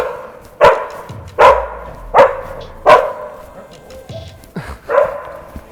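Stray dogs barking in a night street in Alexandria, Egypt: five or six loud, sharp barks spaced roughly a second apart, close by, with a couple of weaker yelps between them and no talking.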